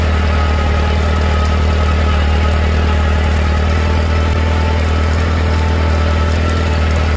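Farmall A tractor engine pulling a two-bottom plow, a loud, steady, close low-pitched chug that holds without a break and has no talk over it.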